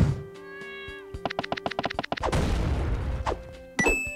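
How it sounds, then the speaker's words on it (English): A cartoon cat meows in a quick rapid series of short calls, then a burst of noisy crashing and a final sharp meow, loud and close with no talking. "It's my cat."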